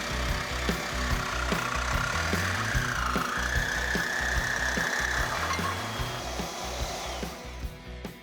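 A Sawzall reciprocating saw cuts through metal in a custom garage working on a 1947 Ford, loud rapid rhythmic chatter with pitch shifts as the blade bites, close and continuous.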